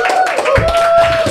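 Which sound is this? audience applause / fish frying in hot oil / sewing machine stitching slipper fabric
audience applause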